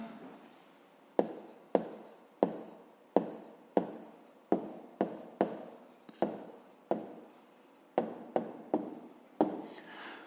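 A pen writes on paper during a math exercise, giving quiet, close, scratchy strokes with sharp taps that come roughly every half second, with no one talking.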